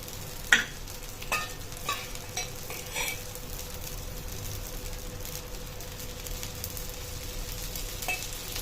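Dosa batter topped with onion sizzles steadily in oil on a hot pan, a constant frying hiss with a few soft scraping taps from a ladle pressing it early on.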